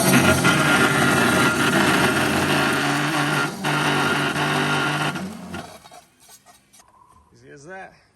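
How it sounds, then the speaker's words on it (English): A power saw cuts through a wooden piece weighted down to pull it into the blade, a loud sustained whine for about six seconds before it stops abruptly, followed by quieter handling noises. "fire up the saw"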